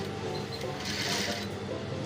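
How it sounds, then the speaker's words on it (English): A sewing machine runs steadily while stitching a senator pocket seam on a garment, a continuous close whirring hum for the whole short stretch. "Make sure that the line you are stitching is going straight."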